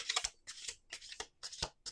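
Several quick riffle bursts of a deck of cards being shuffled up close, four crisp rustling flurries separated by short pauses, with no voices.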